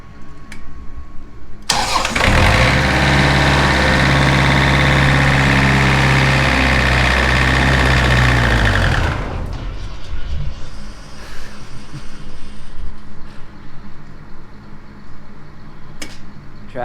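A spray rig's motor cranks over and catches, running loud and steady for several seconds before dropping to a quieter, rougher idle with faint clunks near the end.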